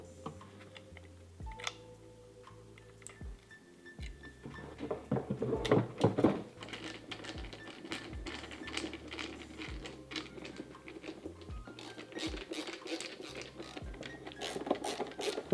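Screws are hand-driven to mount a subwoofer ring in a Tesla Model 3, with T20 Torx and 2.5mm hex stainless screws. Close, light clicks, ratchety taps and small metallic rattles come in irregular clusters, busiest in the middle, with no speech.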